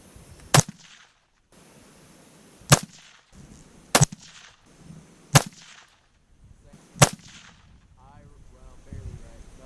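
Five separate AR-15 rifle shots fired at steel targets, each a loud sharp crack with a short ringing tail, spaced roughly a second or two apart, with faint voices murmuring between shots.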